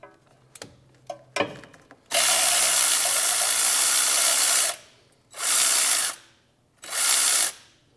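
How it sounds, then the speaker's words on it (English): A power ratchet or impact tool spins out the rusty 10mm bolt holding the ABS sensor on a Jeep Grand Cherokee with the 3.6L Pentastar, heard as a few short clicks and then three loud, close whirring bursts, the first one long. "Now we can take this 10mm bolt out that holds the ABS sensor in."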